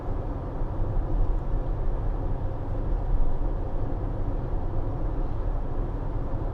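A 2019 Citroen Relay 2.2 BlueHDi 35 Enterprise L2 H2 van cruising at 60 mph in sixth gear around 1900 revs, its cabin filled with a steady, loud, even drone of engine and road noise, with no one talking.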